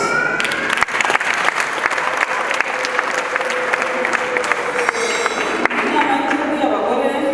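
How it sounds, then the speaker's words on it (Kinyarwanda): An audience at a Rwandan women's council event in Kigali claps steadily for several seconds, a dense, even patter of many hands with a voice faintly audible underneath. "twifuza yuko mwabaduhera amashyi"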